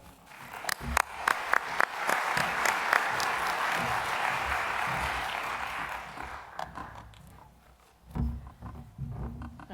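A plenary-session audience claps to welcome a speaker, the applause swelling quickly, holding dense and steady for several seconds, then thinning out, followed by a few scattered thumps and shuffles.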